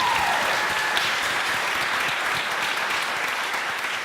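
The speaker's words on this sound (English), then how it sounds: "So let's give him a round of applause." Audience applause at a community panel discussion on the Crown Heights neighborhood in Brooklyn, a dense, steady roar of many hands clapping that fills the room evenly for about four seconds without talk.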